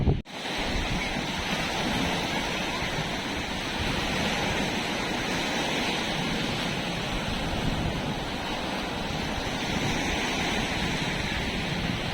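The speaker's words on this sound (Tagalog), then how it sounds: "Pumunta sa dagat para mag-swimming." Sea waves at Houlgate beach in Normandy make a steady, loud roar of surf mixed with wind buffeting the microphone, continuous from start to finish.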